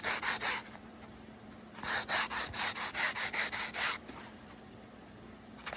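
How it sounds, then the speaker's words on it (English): A sanding stick rubbed over the smooth side of a 3D-printed tank track, close and crisp: a short burst of strokes, a pause, then a longer run of about eight quick rhythmic back-and-forth rasps before stopping. "I'm sanding down the smooth side right now"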